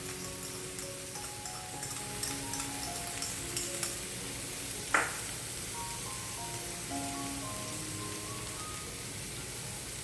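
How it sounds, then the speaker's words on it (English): Garlic sautés in a pan with a soft, steady sizzle and faint crackle, one brief utensil clack midway, quiet background tones throughout. "Let that saute until it's softened."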